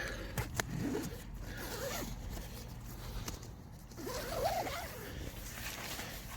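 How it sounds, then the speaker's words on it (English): Zipper on the door of a Naturehike Cloud Peak 2 tent being pulled open and around, a close, steady rasping run lasting several seconds with brief pauses. "zip going that way, zip going that way, zip going up and around, and that's on both sides"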